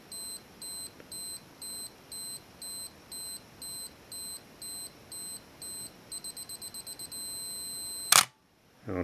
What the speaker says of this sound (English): The camera also has a beeping function. It'll work for various metering conditions, but also for the timer. Here we hear it again.